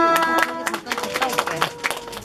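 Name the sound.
audience clapping at a kindergarten graduation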